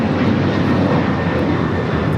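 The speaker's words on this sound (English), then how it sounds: "This is Delta Airlines 449 taking off to Nashville, Tennessee on the 737-900ER." A Delta Air Lines Boeing 737-900ER takes off from Los Angeles International Airport, bound for Nashville. Its engines give a loud, steady broadband roar that holds at one level, close by and heard on its own.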